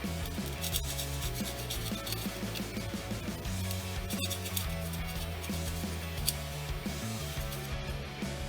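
Sanding a plastic Chaos Knight Rampager model kit leg part: a steady, close scratchy rubbing with repeated short back-and-forth strokes, continuous and alone without talk.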